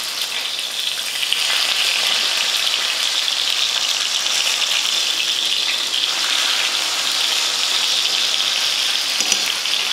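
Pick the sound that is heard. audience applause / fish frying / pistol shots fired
fish frying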